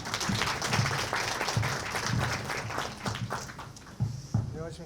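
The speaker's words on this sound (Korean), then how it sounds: "박수로 환영해 주시기 바랍니다" Applause at a business presentation event, a steady patter of many hands clapping for several seconds, moderately loud in a large room.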